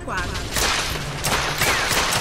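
Gunfire from the video game The Order: 1886, a rapid burst of loud shots cracking close over continuous game noise, with someone talking over the action.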